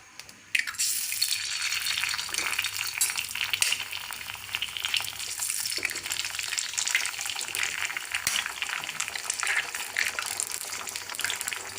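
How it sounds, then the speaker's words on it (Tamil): Egg sizzling and frying in hot oil in a kadai, a steady bright crackle that starts abruptly and continues loud and close throughout, with no talking. "எண்ணெய் காஞ்சதும் எடுத்து வச்சுருக்க முட்டையை இதில் உடைச்சி ஊற்றிக்கலாம்."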